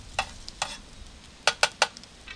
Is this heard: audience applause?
no